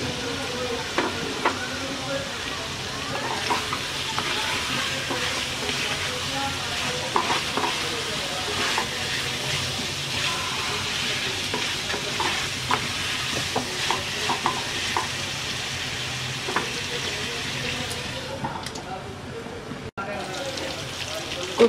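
Spiny gourd stir-frying with jackfruit seeds in a pan, a steady close sizzle and crackle with scraping stirs throughout, the frying noise continuous and fairly loud before briefly cutting out near the end.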